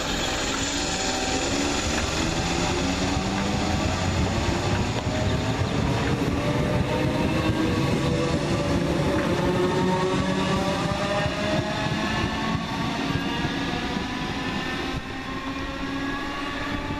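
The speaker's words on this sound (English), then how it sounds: "Next up, the 11:27 Southern Railway service from, well, it's originally Sleaford." A Southern Railway train rolls through London Road station in Brighton, a continuous loud rumble and clatter of wheels on rails with rising and falling tonal whine, sustained throughout before easing slightly near the end.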